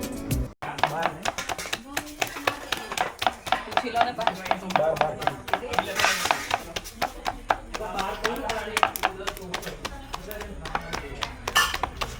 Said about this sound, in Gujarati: આવી રીતે મકાઈના રોટલા બની રહ્યા છે.